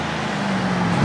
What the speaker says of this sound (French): Là, il a remis les gaz en grand.